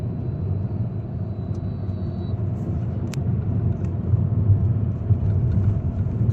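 Citroen C3 car cruising in fourth gear, a steady low engine and road rumble heard from inside the cabin, continuous and even throughout with faint brief clicks.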